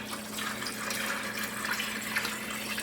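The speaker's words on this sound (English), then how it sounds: "Now this bowl's starting to get full already of broth." Chicken bone broth pours steadily into a filling bowl, a constant liquid splashing and trickling sound at moderate volume with no talking.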